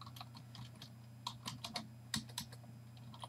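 Soft, close computer keyboard typing, with irregular quick clicks of individual keys tapped in short bursts over a quiet background hum.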